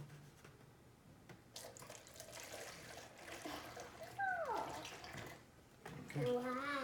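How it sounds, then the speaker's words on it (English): Vinegar is poured into a bottle for a homemade volcano experiment, making a quiet, faint trickling splash, while people speak briefly in the background. "the first step is going to be placing the vinegar into the bottle"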